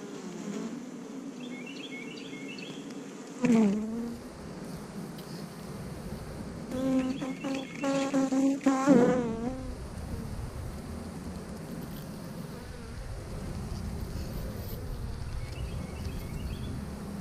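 Honey bees buzz steadily around a hive at close range, with louder buzzes as some fly near, and faint chirps in the background.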